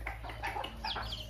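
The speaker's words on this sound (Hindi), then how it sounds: "ये है मुर्गा मुर्गी सब है." A rooster and hens cluck in a rural village yard, with short, fairly faint clucks and calls repeating over a low, steady mechanical hum.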